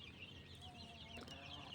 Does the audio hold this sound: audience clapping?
no